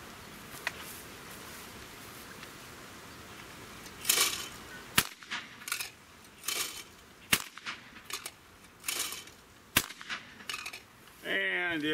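Several 20 gauge shotgun shots from a walnut and blue gun ring out at irregular intervals, sharp cracks with short echoing tails at moderate distance, rustling between them and a brief burst at the end.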